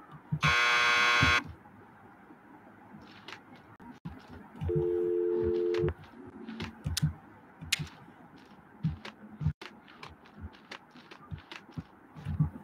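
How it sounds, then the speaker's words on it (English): A door buzzer from the Max Payne video game sounds twice: a loud harsh buzz lasting just over a second, then a lower, steadier buzz for about a second, set against quiet ambient game noise with scattered clicks. "Just press the buzzer by the door."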